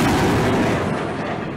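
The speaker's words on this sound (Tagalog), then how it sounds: "Gumamit ng high mobility artillery rocket system ang Estados Unidos na" A US high mobility artillery rocket system fires toward the sea, a loud, heavy roaring blast with a rumbling low end that stays dense and slowly fades, with no voices.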